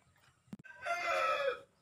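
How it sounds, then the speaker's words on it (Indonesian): A red and black rooster crows once, close and fairly loud, a single drawn-out call that follows a brief soft thump. "kali ini saya sudah megang ayamnya, yaitu warna ayam merah, warna dasar hitam ya"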